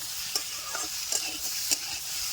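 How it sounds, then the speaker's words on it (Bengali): Vegetables sautéing with ground green and dried chili paste in a pan, a continuous bright sizzle broken by a few sharp spatula scrapes and stirs, close and steady with no talk. "লঙ্কা বাটাটা দেওয়ার পরে একটু ভালো করে কষিয়ে নিতে হবে"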